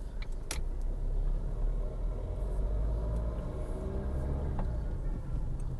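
A 2004 Ford Fiesta 1.4 TDCi diesel hatchback drives along, its engine and road noise forming a continuous low rumble heard from inside the cabin, with a couple of faint clicks and no speech.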